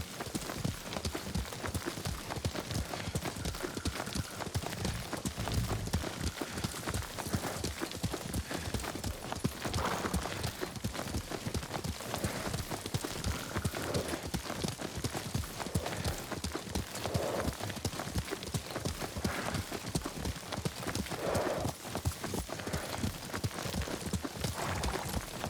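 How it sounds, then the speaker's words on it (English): A horse gallops in the Ghost of Tsushima video game, its hooves beating a steady, rhythmic clip-clop that runs on and on at close range with no voices. "Lord Sakai taught me to ride a horse."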